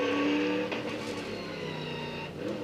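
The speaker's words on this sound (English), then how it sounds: "Great view there as the cars thunder up Repco Hill, reaching 250 kilometres an hour in the approach to that frightening drop-off." Race cars thunder up Repco Hill at around 250 km/h, a loud, sustained engine roar with a shifting pitch heard from close by.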